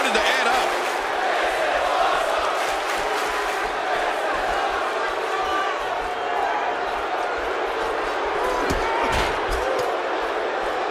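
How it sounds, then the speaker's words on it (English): A wrestling arena crowd roars and cheers without pause at a loud, sustained level, while commentators talk over the noise. "by the sound of this crowd, I think they're getting what they wanted"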